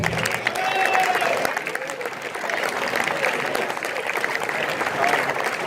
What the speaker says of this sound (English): Please, one applause for him.